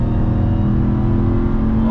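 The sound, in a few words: Ram TRX truck accelerating hard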